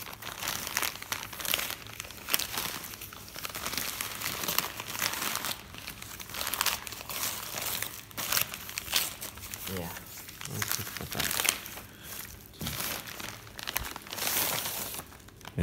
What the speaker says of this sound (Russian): Для истории пакетик оставлю, что с Польши прислали мне